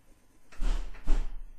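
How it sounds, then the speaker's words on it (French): A door slams indoors in a quiet room, making two dull, fairly faint thuds about half a second apart. "Claquement de porte là."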